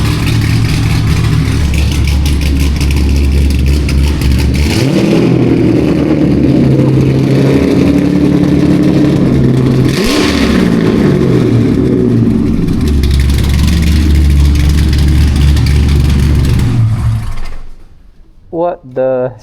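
A Corvette with its Magnaflow mufflers removed idles loudly, then surges through several throaty revs up close before cutting off abruptly, followed by brief voices.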